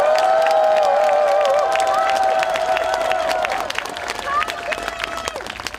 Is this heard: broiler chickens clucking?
no